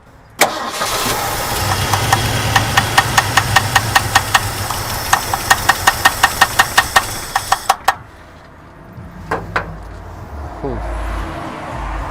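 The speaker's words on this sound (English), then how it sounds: "it cranked right up. It's idling, it sounds pretty good, no internal noises" A 1969 Ford F100 engine, unrun for 30 years, cranks with rapid rhythmic clicks, then catches and settles into a rough, low idle; the cranking stops abruptly partway through.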